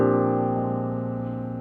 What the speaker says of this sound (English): 1, 2, that's a rolled chord.